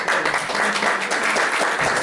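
Guests applaud at a 60th surprise birthday party in Washington, a dense, continuous burst of many hands clapping close by for about two seconds.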